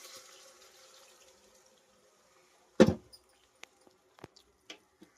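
Water is poured into a chicken gravy curry briefly with a loud splashing burst, followed by a few soft clinks and taps against a metal pot; quiet background hiss otherwise.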